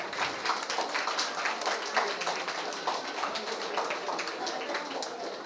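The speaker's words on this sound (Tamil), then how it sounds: "கைத்தட்டி உற்சாகப்படுத்துங்க" Dense applause from an audience cheering children at a summer camp closing ceremony, a steady patter of many hands clapping at once with no pauses.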